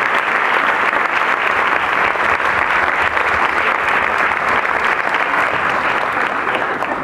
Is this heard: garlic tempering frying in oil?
no